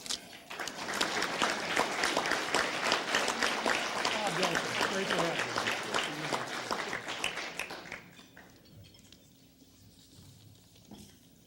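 A Toledo Rotary audience applauds to welcome a speaker, dense steady clapping filling the room for about eight seconds before thinning out into a quiet hall.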